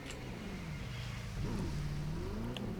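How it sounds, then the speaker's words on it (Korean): A McLaren 765LT engine in the racing game The Crew 2 gives a faint, steady engine drone that rises slightly in pitch and loudness partway through, with no talk. "엔진 소리가 굉장히 부드럽고요 오 엔진 소리가 굉장히 독특합니다"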